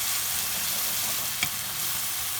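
Shrimp simmering in a tomato sauce in a pan as it is stirred, giving a steady, even sizzle throughout with one brief soft scrape near the middle, heard alone without voices.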